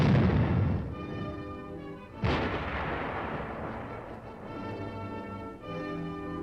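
A fire-support weapon with an armor team fires direct: heavy, booming artillery-like blasts, one opening the clip and another about two seconds later, each trailing into a long rumbling decay, with no voices.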